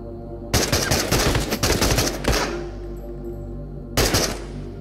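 Assault rifle fire in the VR shooter Into The Radius: a loud, close sustained burst of rapid shots, a brief gap with fading echo, then a second short burst starting at the end.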